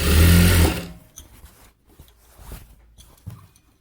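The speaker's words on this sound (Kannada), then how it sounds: "ಈ ರೀತಿ ಫೋಲ್ಡ್ ಮಾಡಿ ಸ್ಟ್ರೈಟ್ ಸ್ಟಿಚ್ ಹಾಕೋಣ" A sewing machine runs a straight stitch along a folded hem, a loud steady whir for under a second, then stops, leaving only faint handling clicks and fabric rustles close by.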